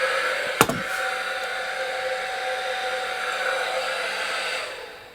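A Paslode cordless nail gun whirs in a steady, close hum for about five seconds, broken early on by one sharp click or knock.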